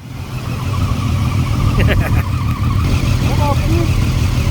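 BMW E36 328i idling close by with a loud, steady exhaust drone, plus brief higher chirps over the rumble; voices can be heard nearby.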